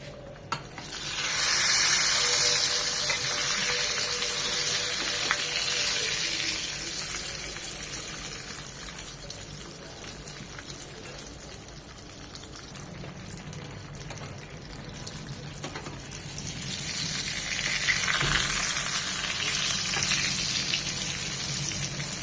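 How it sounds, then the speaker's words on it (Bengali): Eggplant slices frying in hot oil seasoned with turmeric, salt and roasted cumin, a loud continuous close sizzle with bubbling and occasional stirring, swelling louder at the start and again near the end. "এই তেলে বেগুনটাও ভেজে নেব।"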